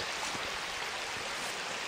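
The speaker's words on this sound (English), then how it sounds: "we're at a waterfall that runs most of the year" A waterfall that flows most of the year, on a hiking trail, gives off a dense, steady rushing roar, close and unbroken, with no voices.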